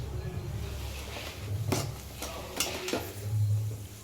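Whole garam masala, bay leaves and dried chillies sizzling in oil, a soft steady hiss broken by a few sharp clinks and scrapes of a spoon against the pan.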